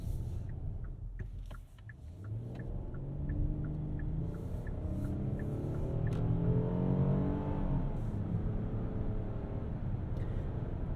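Hyundai Palisade with a 3.8 liter naturally aspirated V6 accelerating, heard from inside the cabin as a steady, rising engine drone with no talk over it.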